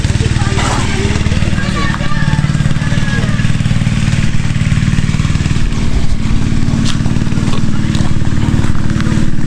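A steady irrigation pump engine drones loudly and continuously throughout beside rice paddies, with people talking over it.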